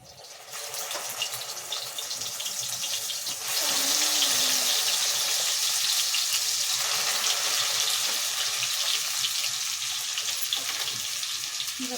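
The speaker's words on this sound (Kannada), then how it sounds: "ಇದು ಚೆನ್ನಾಗಿ ಫ್ರೈ ಆಗಲಿ ಮಸಾಲೆ ಎಲ್ಲ" Ground masala frying in about four spoons of oil for chicken sambar, a dense continuous sizzle that swells louder after a few seconds and holds steady, with no talking.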